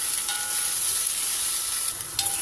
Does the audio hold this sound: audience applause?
no